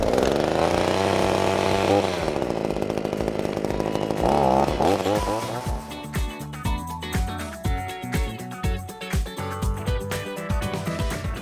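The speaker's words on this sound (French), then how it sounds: "Et ensuite vous lancez la tronçonneuse." A petrol pole pruning chainsaw roars loud and close, its engine note wavering at first, then settling into a sequence of rhythmic revving bursts and throttle pulses.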